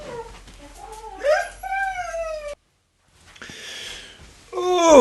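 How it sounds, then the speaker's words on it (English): A dog whimpers and whines indoors in rising, wavering cries and yips, close and fairly loud, broken by a short silence before more whining resumes. "What was I talking about before my dog interrupted me?"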